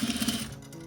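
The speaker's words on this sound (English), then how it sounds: "I'm being really sure to stitch over my first stitch line on the welt" A sewing machine stitches briefly over a fabric welt for a cornice project, a quick close burst of rhythmic needle chatter that stops within half a second.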